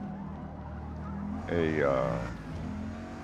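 Engine of a Bugatti Veyron race car in the Forza Motorsport racing game at Le Mans, a steady drone that swells into a brief revving surge midway, with a voice talking over it.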